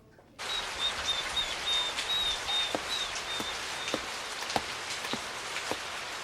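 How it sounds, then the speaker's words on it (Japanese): Steady rain falls on a surface on a humid summer day, a dense continuous patter with occasional sharper drips, and a faint bird chirping in the background. "本当に嫌な雨。"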